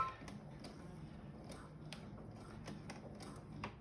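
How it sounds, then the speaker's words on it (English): Sewing machine stitching forward and back along a curved seam, giving a steady low mechanical hum with a string of sharp repeated ticks from the needle, close and continuous throughout with no talking. "so I'm sewing along that curve"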